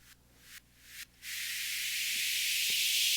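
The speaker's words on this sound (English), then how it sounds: "it's just a regular steam release uplifter" A hissing steam burst sputters in three short puffs, then opens into a continuous rising whoosh of released pressure that keeps building.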